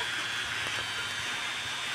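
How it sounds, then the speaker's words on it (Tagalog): Heavy rain pounding steadily on a roof during a sudden downpour, a dense continuous hiss with scattered drips, close and loud, no voices. "Bigla po ang lakas ng ulan, oh. Ayan, nagpapatakan pa tubig. Tagupak na sa bubong eh."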